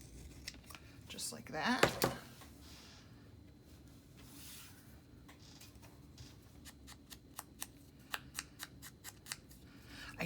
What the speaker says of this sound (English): cut the ends of this so it looks a little more like a ticket, just with my pinking shears